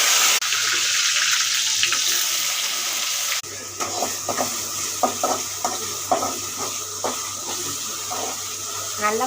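Onions sautéing in oil with mustard seeds for homemade egg rice: a steady broadband sizzle throughout, with a brief drop partway and then frequent crackling pops and stirring scrapes close by, no talk.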